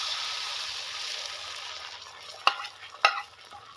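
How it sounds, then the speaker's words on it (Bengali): An egg omelette fries in oil in a kadai, a steady soft sizzle heard up close, broken near the end by two sharp metallic clinks of a utensil against the pan. "মা নেই সেজন্যে বাবা এদিকে ডিম ভাজা চালু করছে।"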